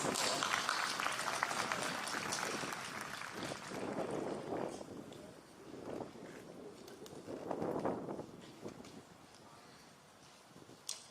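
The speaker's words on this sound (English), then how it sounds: "Let's give her another round of applause." Applause for an honoree at a university commencement ceremony rises as a broad wash of clapping, fading and swelling in waves across the room before dying away.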